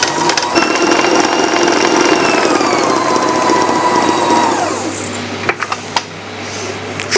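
An electric mixer blends marzipan paste with egg whites, a loud steady motor whir with a descending whine that slows and winds down, followed by a few clunks and knocks.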